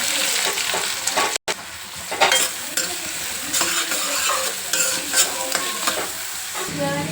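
Cumin seeds and whole garam masala fry in hot oil for a paneer masala curry. The sizzling and crackling is loud, close and steady, with a brief dropout and light stirring scrapes of a spoon against the pan.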